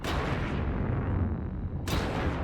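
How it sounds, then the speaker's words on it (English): Two heavy cannon blasts boom in Mass Effect 3 Legendary Edition, one at the start and one near the end, each loud with a long rumbling decay, no talk over them. "Wait, those cannons are still firing."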